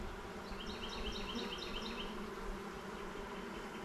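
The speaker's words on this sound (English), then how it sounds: "We're getting into the bees though." Honey bees in an opened beehive give off a steady, dense buzzing hum. It is even and continuous throughout, close but fairly soft, with no voices.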